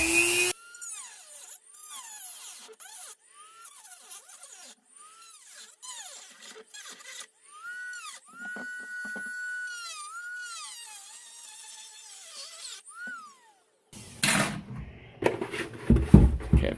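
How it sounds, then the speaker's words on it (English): Dremel rotary tool cutting through a helmet's hard outer shell, a high whining spin that rises and dips in repeated short bursts of grinding, close and fairly quiet, ending with clattering handling noises. "I've cut through the hard outer shell with the Dremel."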